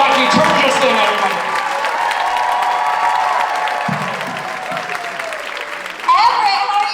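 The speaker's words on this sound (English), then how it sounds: "round of applause. Jaci, everybody." Comedy club audience in Everett applauding and cheering as comedian Jaci takes the stage, loud crowd clapping with whoops and voices mixed in, swelling again near the end.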